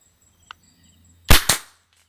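A PCP air rifle fires at a target 20 metres away, giving two sharp, loud cracks in quick succession after a tiny faint click, then quiet.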